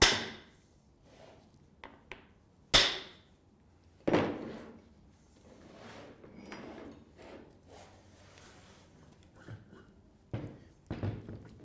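Several sharp metallic hammer blows ring out at irregular intervals as two rotors are knocked out of their casing, mixed with scraping and knocking of metal parts, close and moderately loud.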